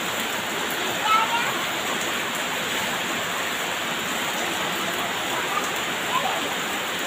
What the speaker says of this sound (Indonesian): Gak ada yang keluar, nak, lagi hujan.